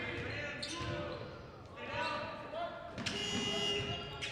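Shot clock buzzer in a boys' high school basketball game between Grand Forks Central and Fargo Davies, a sustained tonal blare near the end that rises over gym crowd noise and a commentator talking.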